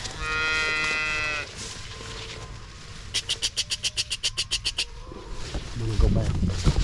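Cattle being moved and bunched up, one long loud moo at the start, then a rapid series of pulsing rattles and lower moos, with a voice talking nearby.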